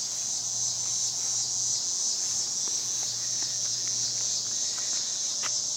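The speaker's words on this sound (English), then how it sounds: "You can hear the cicadas" A dense, high cicada drone from the trees fills the air continuously, with faint scattered ticks and rustles underneath.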